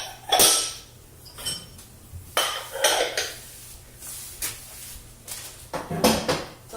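Kitchen clatter: a heavy drawer slides and shuts with rattling utensils and dishes clinking, several bumps and scrapes in irregular bursts.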